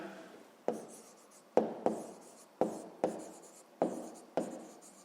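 Pen writing by hand on paper while working a maths exercise, heard as a series of close, sharp taps and short scratchy strokes at an uneven pace, quiet and with no talk.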